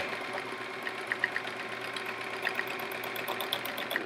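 A sewing machine stitches free motion swirls on a chevron quilt with a steady, fast mechanical whir and a few faint ticks, running alone at close range.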